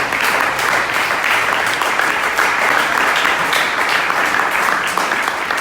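A congregation at a church service bursts into loud, sustained applause, dense clapping filling the room evenly from start to finish.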